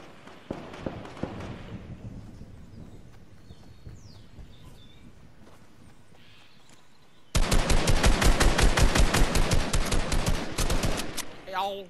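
Rapid automatic gunfire in the Fortnite video game erupts loud and close in a sustained burst over the last few seconds, after a quieter stretch of scattered distant shots and faint voices.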